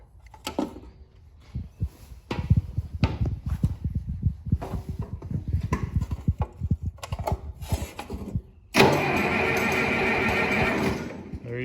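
A John Deere 3020 diesel tractor engine cranks in a run of rapid low pulses for several seconds, then catches and roars into a loud, steady idle close by, with no talking.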